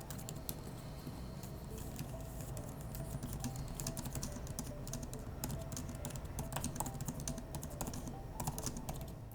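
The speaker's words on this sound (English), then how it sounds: "I'm gonna type it in so you guys can hear the clicks of the iPad here." Steady, rapid clicking of keys on an M4 Magic Keyboard for the 11-inch iPad Pro, continuous close-up typing with no voices.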